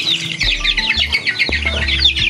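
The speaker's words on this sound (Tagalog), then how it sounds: "Ayan, dami na ng manok namin dito guys." Chickens and chicks at a backyard home flock cluck and peep busily up close, a steady overlapping stream of high, chattering calls with a few low thumps underneath.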